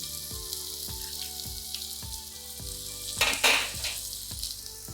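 Cashew nuts sauteing in a hot pan for a festive desi chicken roast gravy, a steady close sizzle with rhythmic stirring scrapes every half second and a brief louder hiss near the end.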